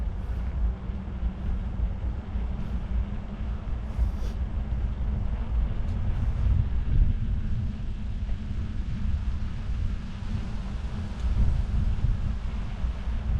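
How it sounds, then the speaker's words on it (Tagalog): Strong wind buffets the microphone while riding a bicycle on a quiet road, a loud continuous low rumble that swells and dips throughout with no other clear sounds. "Malakas ang hangin."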